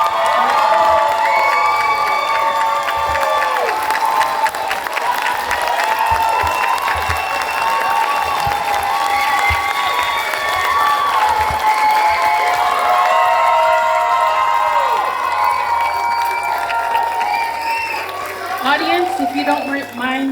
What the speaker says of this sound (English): And can we all just stand and give you guys all a round of applause?